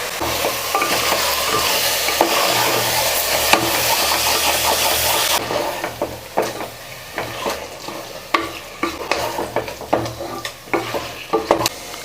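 Marinated chicken added to a coriander and mint masala for chicken biryani in a pressure cooker, sizzling and frying loudly up close, then stirred with a spoon in a series of irregular scraping strokes over the steady hiss.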